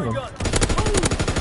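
A gun firing in Call of Duty WW2, a fast regular burst of automatic shots after a short pause, loud and close, with a voice briefly heard underneath at the start.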